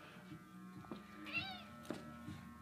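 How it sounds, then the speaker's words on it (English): A house cat meows once in the middle, a clear rising and falling call heard fairly close in a quiet room, with faint soft bumps and rustles around it. "don't mind my cat"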